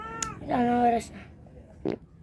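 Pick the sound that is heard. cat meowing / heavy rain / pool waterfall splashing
cat meowing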